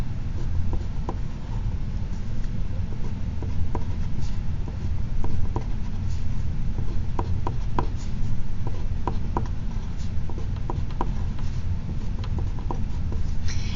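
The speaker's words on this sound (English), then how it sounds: "one possible way to do this is to draw a number line" Pen or marker drawing a number line by hand, soft scratchy strokes and light taps over a steady low background hum, close and quiet, with no voices.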